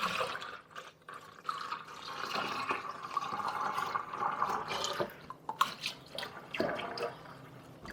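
Clear sugar water poured into a rose petal wine mixture, a steady soft trickle of liquid with a few drips and splashes near the end, faint and close with no voices.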